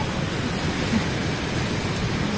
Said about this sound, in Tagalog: grabe na ang ulan